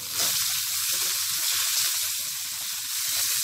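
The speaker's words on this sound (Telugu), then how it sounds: "ఈ పోపు ఇలానే వేగాలండి" Spice tempering (popu) sizzles in hot oil for an eggplant and okra bajji, a close, steady hiss of frying with faint crackles underneath and no voices.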